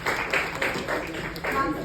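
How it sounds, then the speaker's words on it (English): An audience claps at a retirement celebration, steady clapping in several bursts while a host keeps talking over it. "Keep clapping everyone."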